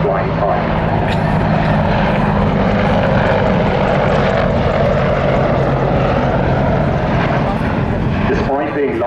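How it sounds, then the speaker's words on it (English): An Apache attack helicopter performs a display at an air show, its loud rotor and engine roar sustained throughout while an announcer talks over it. "the Apache is highly maneuverable, as you can see with this 270-degree wing over"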